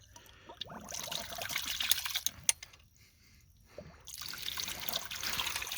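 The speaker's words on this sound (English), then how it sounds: "Turn on the water here." Water trickles and splashes into a ram pump, a soft uneven flow that drops away briefly midway and then resumes.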